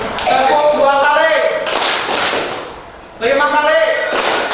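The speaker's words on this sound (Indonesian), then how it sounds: "Tepuk 2 kali" A classroom of pupils claps hands together in rhythm: two broadband bursts of clapping, each following a teacher's spoken count, loud and near, with talking between them.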